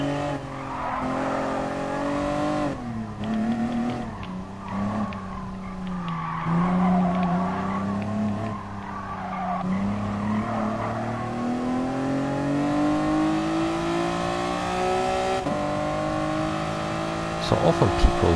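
Race cars in the video game Gran Turismo Sport, including a Mk7 GTI, NSX, Mk4 Supra and Veyron, engines revving and shifting through rising and falling pitch with tire squeal and skids, continuous and loud.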